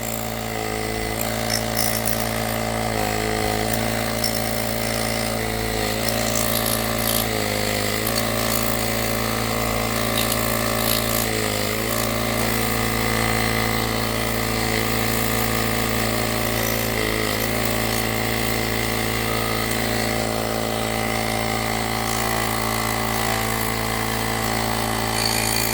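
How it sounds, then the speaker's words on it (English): Compressed air hisses steadily as it is blown through a Kawasaki EX250 crankshaft being rebuilt for a junior speedway sidecar, with a close, continuous roar and a few brief dips as the nozzle shifts. "Blow air through it so it cleans it all out nice and neat."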